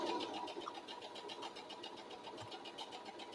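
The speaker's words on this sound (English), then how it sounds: "we're going to back stitch, and then we're going to sew along the casing edge" A sewing machine back stitches and then sews along the casing edge of a simple shoe bag, making a fairly quiet, steady rhythmic whir of rapid needle strokes throughout.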